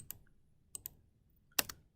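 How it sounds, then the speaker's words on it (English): Spacebar pressed on a computer keyboard: a few sharp, close plastic clicks spaced apart, with a quick double tap near the end, over a quiet background. "Hit spacebar again on the keyboard."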